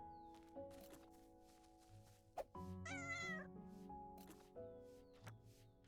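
A cat meows near the microphone, one drawn-out wavering call in the middle, surrounded by soft shuffling and a quiet click.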